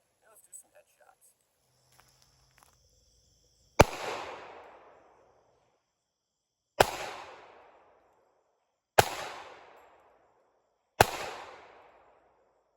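Four loud, crisp shots from a Springfield Ronin .45 ACP pistol with a 5-inch barrel, fired at a steady, unhurried pace, each crack trailing off into a short echo.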